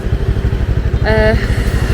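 A motor scooter rides through a town in Vietnam, its engine a loud, steady low throb close by. A short tonal horn or whine cuts through midway.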